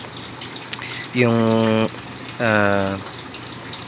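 Water poured into the top tank of an air cooler fan in two separate bursts, each a steady, rising gurgling stream lasting under a second, close by and fairly loud against a quiet room.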